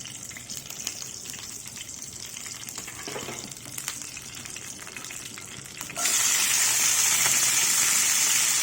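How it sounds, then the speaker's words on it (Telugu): Oil poured into a hot pan while cooking a Telugu-style greens and raw mango chutney, giving a steady bubbling sizzle that jumps to a louder, brighter hissing fry partway through. "మళ్ళీ ఉన్న నూనె వేసేద్దాం."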